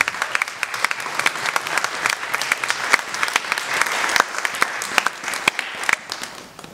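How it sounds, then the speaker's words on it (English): Audience applause at a convention feedback panel: a crowd claps steadily and fairly loudly throughout, with dense overlapping claps and no pause. "Can we give her a round of applause"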